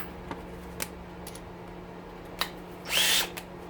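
A power drill backs screws out of a heating element in a single short whirring burst, with a few quiet clicks and taps of handling before it.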